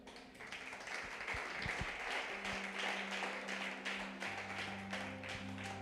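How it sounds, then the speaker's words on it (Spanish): A church congregation applauds during a Sunday service, steady scattered clapping filling the room for several seconds at moderate level, with a low tone sustained underneath. "Desen un aplauso."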